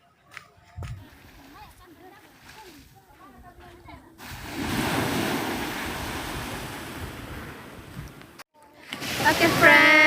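Surf washing onto a beach at Tapanuli near Sibolga, with a steady broadband wash building loudly partway through and swelling again at the end, following a stretch of talk at the start.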